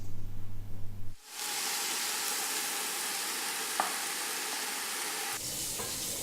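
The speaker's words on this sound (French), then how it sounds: "On va la faire revenir dans un peu d'huile jusqu'à ce que ça soit coloré." Pork browns in a little oil in a pan, a soft, even frying hiss that starts abruptly after a brief low hum and holds steady, with a faint click partway through.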